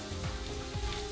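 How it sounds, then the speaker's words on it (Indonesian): Sliced lemongrass fries in hot oil with a steady, soft sizzle and crackle throughout, close and continuous without any talking. "setelah itu kita masukkan serainya. Ini serainya juga udah aku iris-iris. Goreng juga sampai warnanya kuning keemasan."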